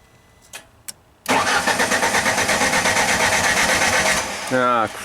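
A Genie lift engine cranks with its fuel pump bypassed, a loud, steady rhythmic churning of the starter that runs for several seconds without catching, then cuts off abruptly into a brief voice.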